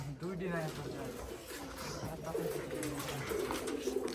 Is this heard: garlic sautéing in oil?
no